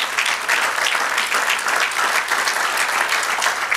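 A church congregation applauding the Lord, a broad wash of many hands clapping at a steady, loud level throughout, with no talking on top.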